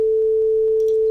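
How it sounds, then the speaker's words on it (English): A steady pure sine-wave test tone generated in Audacity holds one unchanging pitch, loud and alone, for about a second. "I have here a program Audacity with which I can generate tone"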